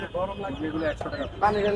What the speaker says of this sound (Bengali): দেখুন এখানে মুরগির বাচ্চা আছে অনেক সুন্দর সুন্দর